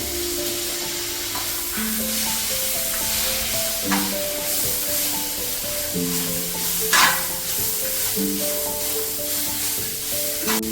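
Capsicum, cabbage and soaked green peas are sautéed on full flame in a pan, giving a steady sizzle with intermittent stirring scrapes while faint tonal music plays underneath.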